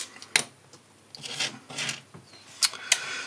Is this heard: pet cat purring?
no